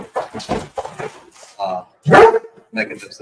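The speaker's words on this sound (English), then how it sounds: "Sorry about my dog." A pet dog barks briefly in a room during a podcast recording. A couple of sharp barks sit among and between people talking.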